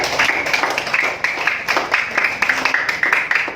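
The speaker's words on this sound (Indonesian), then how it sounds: "Kasih tepuk tangan dulu buat Ratih." Steady applause from a small group of schoolchildren in a classroom, quick overlapping claps close by, continuing evenly throughout.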